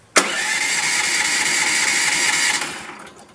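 Gas engine of an OS 27 Frontier portable sawmill starting at about a third throttle, catching with a sharp onset and then running at a steady, loud mid-pitched roar for over two seconds before easing off.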